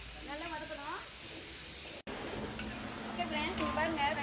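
Onions sizzle in a hot pan with a steady hissing crackle, joined near the start by a person talking over the cooking.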